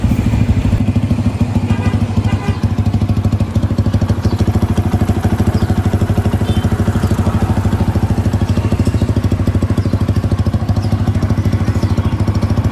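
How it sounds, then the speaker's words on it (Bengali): A motorcycle engine idles steadily after an oil change, loud and close, with a continuous even throb and light mechanical clatter throughout and no talking. "বাইক কিন্তু এখন বর্তমানে স্টার্টে আছে, তো আপনাদেরকে সাউন্ডটা শোনাই।"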